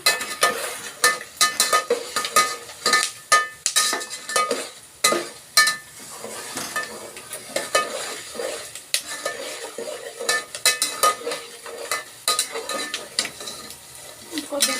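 Spices, dried red chillies among them, frying in a pan while a utensil scrapes and clinks against the metal in a quick, irregular rhythm of close strokes, with a light sizzle underneath.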